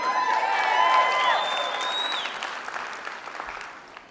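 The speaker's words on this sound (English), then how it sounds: "You don't want to clap for that." A keynote audience of photographers breaks into loud applause with some cheering and whistles, a dense burst of clapping that peaks early and gradually fades over several seconds.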